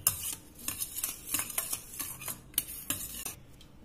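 Spoon stirring white sauce into a tomato soup mixture in a pot, with light repeated scraping and clinking strokes at an uneven rhythm, close and fairly quiet, no talking.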